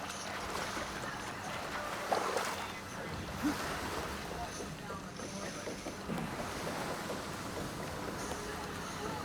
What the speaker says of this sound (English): I like the waves, are pretty cool.